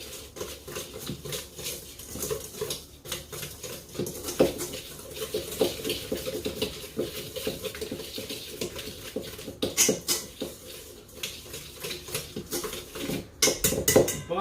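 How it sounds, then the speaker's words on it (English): Apple pie ingredients whisked together in a bowl, a busy run of clinking, scraping strokes with occasional sharper taps, close and fairly steady, with no talking. "Let's whisk this all together now"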